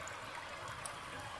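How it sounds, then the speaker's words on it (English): Water flowing over and through rocks at Fairy Lake, a soft, steady trickling rush heard close and quiet with no voices. "the water flowing through the rocks here"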